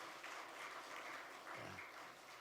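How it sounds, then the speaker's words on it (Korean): A church congregation claps for the choir at a Sunday morning service, a soft, distant patter of applause that runs steadily throughout. "우리 좋은 찬양대 주신 하나님께 다시 한번 영광의 박수 한번 하겠습니다."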